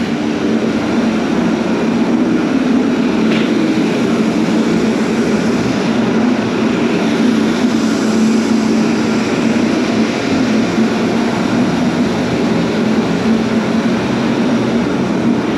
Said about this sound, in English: let's see if we can turn these blowers off.